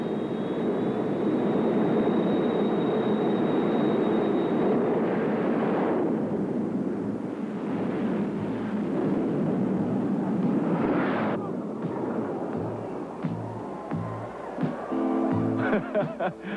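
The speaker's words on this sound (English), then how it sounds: "Now we get a chance to finally look at those jet cars." Jet-powered drag racing cars at the Winter Nationals roar in a long, loud, rumbling blast that fades after several seconds, followed by scattered engine bursts and crowd noise near the end.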